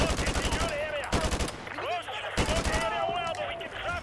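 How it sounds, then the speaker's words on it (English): Rapid machine-gun bursts and single shots from Modern Warfare 2 Remastered fire close and loud in repeated volleys, with someone speaking briefly between them. "I'm being shot in the back"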